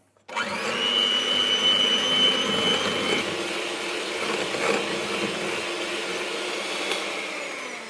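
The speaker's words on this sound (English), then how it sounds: "75 grams of caster sugar and whisk till pale and fluffy" An electric mixer whisks caster sugar mixture until pale and fluffy, switching on abruptly into a loud, steady whirring drone that runs for several seconds with no talking.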